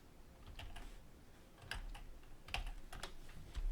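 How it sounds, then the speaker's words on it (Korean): Computer keyboard typing, soft irregular key clicks in short bursts, close and fairly quiet with no speech. "이렇게 타이핑해도 됩니다."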